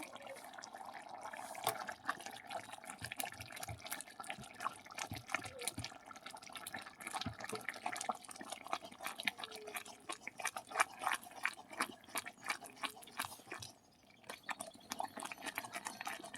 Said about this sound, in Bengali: এই ডালঘুনিটা দিয়ে ঘেঁটে দেব